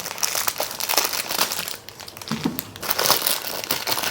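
Plastic bag being opened by hand, likely a triple-layer zip-lock pouch of a Thai papaya salad (som tam) kit, giving close, continuous crinkling and rustling for several seconds with brief sharper crackles and no talk.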